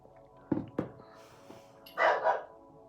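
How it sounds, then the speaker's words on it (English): Dogs barking indoors in a few sharp, separate barks, then a longer, higher yelping burst near the end, fairly close and clear with no talk over them. "The dogs are going bananas today."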